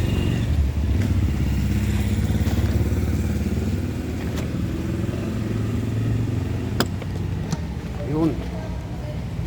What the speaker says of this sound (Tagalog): Ayan yung motor ko, yan.